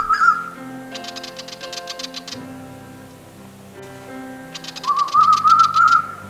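A male Eastern Koel in the Hunter Valley, NSW, calls in rapid runs of repeated whistled notes. Two clear bursts come near and loud, with a quieter pause between them.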